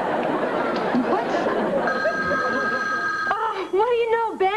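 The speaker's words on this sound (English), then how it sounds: "The telephone's ringing at 7:59 exactly" A telephone rings in a home sitcom scene, a steady electronic ring tone that begins partway through, under ongoing voices and then lilting speech.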